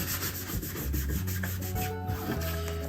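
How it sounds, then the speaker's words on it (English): Paper is folded and pressed flat to form a handmade seed packet, giving a close, soft, continuous rubbing and scraping sound with no talk. "Now I'm just going to fold this up onto that and press it down."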